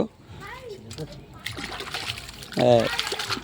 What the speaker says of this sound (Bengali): সেই ফিনিশিং জল মিস্ত্রি নিজে হাতে তুলে দিচ্ছে